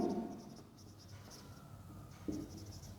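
Pen scratching on paper while writing out accounting entries in a class lesson, quiet strokes with two brief firmer scrapes near the start and end, no talk.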